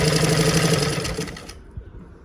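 A sewing machine runs in a steady, close whirring burst while stitching a folded edge on a boat neck blouse, then stops abruptly, leaving faint quiet handling sounds.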